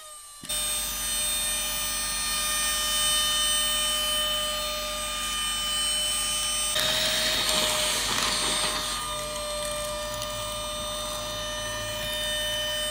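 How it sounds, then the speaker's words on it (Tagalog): A vacuum cleaner runs steadily and loudly with a high whine, briefly surging louder for a couple of seconds midway before settling back to its constant drone. "Lakas ng vacuum"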